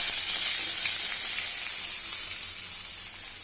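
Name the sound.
mustard seeds and onion sizzling in oil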